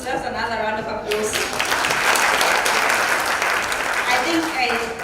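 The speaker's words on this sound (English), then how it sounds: "This deserves another round of applause" Audience applause at a G20 symposium, a dense steady wash of clapping that swells and holds for several seconds, with a voice speaking over it near the start.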